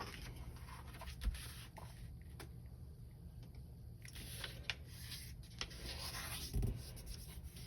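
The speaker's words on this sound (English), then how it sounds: "Now start by folding the right edge to the left edge." An 8.5 by 11-inch sheet of paper being folded into a paper airplane: close, soft rustling and sliding paper noise with a few crisp crackles and creasing thumps, no talking.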